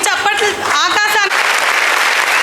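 After a brief stretch of someone talking over a microphone, a burst of dense clapping rises and holds as a teacher comes onto the stage at a school alumni reunion.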